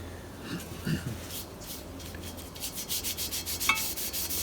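A cloth rubs blackening solution onto raw steel with thick mill scale, first as a few soft scuffs and then as a quick rhythmic series of close, faint back-and-forth strokes.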